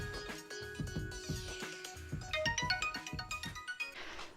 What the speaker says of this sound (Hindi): देखो स्मार्टफोन से टिंग टिंग टिंग चलता है ये देखो।